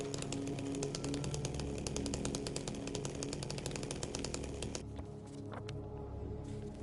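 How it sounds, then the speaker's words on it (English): A chainsaw runs continuously in a video game, a loud steady buzzing rasp that holds for several seconds before easing slightly near the end. "I forgot the chainsaw is always in New Game Plus."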